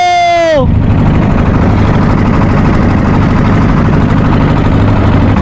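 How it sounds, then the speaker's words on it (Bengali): Trawler boat engine heading along the Padma river toward the Padma Bridge, a loud steady diesel drone with low throbbing and broadband roar that continues without pause after a brief tonal sound at the start. "আমাদের ট্রলার সেই কাঙ্ক্ষিত পদ্মা সেতুর দিকে যাচ্ছে"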